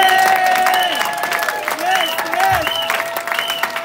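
Church congregation applauding at a family gathering, a steady patter of claps with voices singing or calling over it and a sustained tone throughout.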